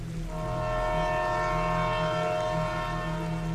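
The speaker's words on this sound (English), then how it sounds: "Off in the distance, the train horn sounded." Distant train horn holding a steady multi-tone chord, sustained and fairly faint across the whole stretch, with a low rumble underneath and no talking.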